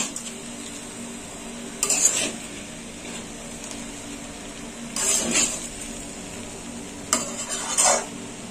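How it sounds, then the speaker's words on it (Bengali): Vegetable rice being stirred and fried in a pan, with three bursts of scraping spoon-on-pan stirring around a soft steady sizzle underneath, close and fairly quiet. "আর একটু ভেজে নেবো।"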